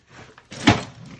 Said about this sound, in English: Close that drawer.